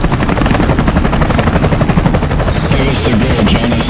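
A helicopter in a chase through woods, heard as a loud, steady rotor thrum with a rapid chopping rhythm that fills the whole clip, with no talking.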